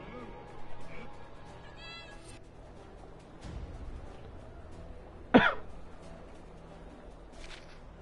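A cat in the video game Gravity Rush Remastered gives one short, sharp meow, close and fairly loud, over a steady bed of game music and ambience, with softer background sounds before it.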